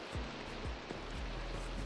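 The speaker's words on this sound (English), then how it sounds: "it's raining? Can you perhaps shut it off?" Rain in the video game Minecraft falls as a constant, even hiss with faint low patters underneath, steady and unbroken across the short stretch.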